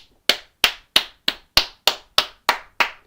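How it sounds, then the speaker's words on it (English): During a trial, a single pair of hands claps close and loud, about nine sharp, evenly spaced claps in a steady rhythm with silence between each. "Let's just have a round of applause for one moment, please."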